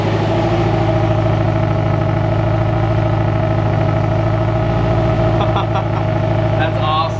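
A Mazda Miata engine with an unequal-length header exhaust idles close by, giving a steady, loud, lumpy burble with an uneven pulse throughout, and faint higher-pitched sounds come in near the end.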